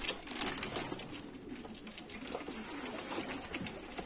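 Pigeons cooing softly in a low, rolling murmur, several birds close by, with a faint hiss of background noise.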